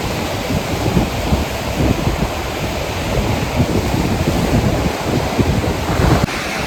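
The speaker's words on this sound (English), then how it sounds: "the waves are definitely splashing around that corner over there" Choppy Lake Erie waves splash against the shore at a state park beach, a steady broadband wash with wind buffeting the microphone, continuous and fairly loud with no voices.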